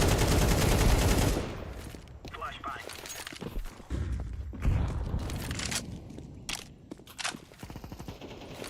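Gunfire and a flashbang in a tactical video game, with a loud burst at the start followed by scattered sharp shots and thuds while players talk over the action.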